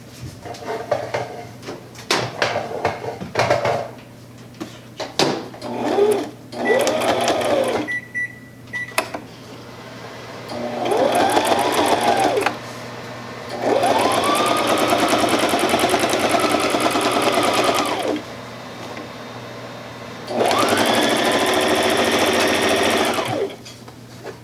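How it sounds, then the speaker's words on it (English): Sewing machine stitching a zippered pocket into fabric, running in several long steady bursts with short stop-start runs and pauses between, close and loud with no talking. "We're going to stitch 1/4 inch on all sides of that line right there."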